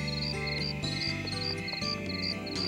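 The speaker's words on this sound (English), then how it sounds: "You can hear the crickets call." Crickets chirp at night in a steady pulsing trill, repeated high chirps layered over a continuous soft musical drone.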